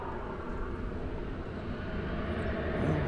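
An American Airlines passenger jet takes off at Dallas/Fort Worth Airport, its engines giving a steady, loud, broadband roar that swells slightly toward the end, with no talking.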